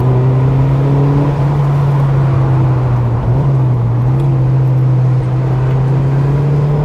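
A Mazda MX-5 Miata cruises at an easy pace in Australia, its engine giving a steady, close drone from inside the cabin that shifts pitch only slightly throughout, with no talking.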